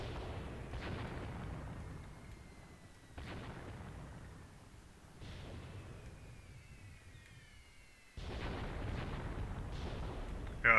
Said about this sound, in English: I will shoot all 10 incendiary rounds that I have.